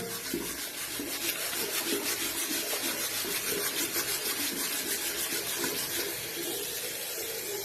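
Steady rush of running tap water with a continuous scrubbing sound as the metal rod of a hydrogen water ionizer thermos is rubbed clean, constant and fairly loud throughout with no voices.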